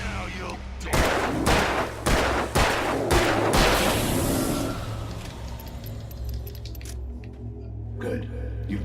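Gunshots in the Alan Wake video game: a rapid series of five or six sharp, loud shots about a second apart, followed by a fading echoing tail and low ambient rumble.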